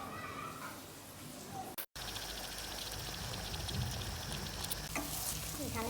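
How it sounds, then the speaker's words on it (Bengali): Spicy shrimp and tomato fry in a continuous, busy sizzle with stirring. A brief dropout cuts in early, then the sizzling runs on steadily with faint background sounds. "এখানে টমেটো, চিংড়ি মাছ দিয়ে ঝাল ভাজি করতেছি"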